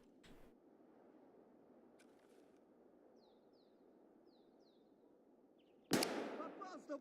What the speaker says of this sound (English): Wasn't ready for that scab to shoot at me.